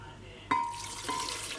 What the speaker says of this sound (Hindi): 2 गिलास दूध डाल रही हूँ।